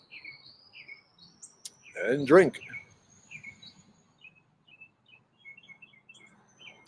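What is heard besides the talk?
pet bird chirping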